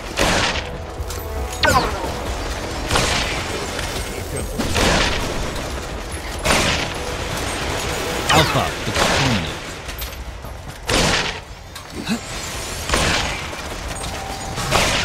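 Gunfire from shooting enemies in the co-op action game Killsquad, rapid bursts and heavy shots repeating throughout, dense and loud, mixed with mechanical game effects and occasional voices.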